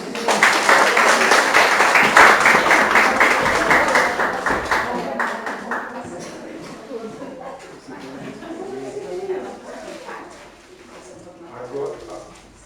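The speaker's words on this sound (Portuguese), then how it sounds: "você pode dar um aplauso para Jesus" A crowd applauds loudly for several seconds, then the clapping fades as voices and lighter scattered claps continue.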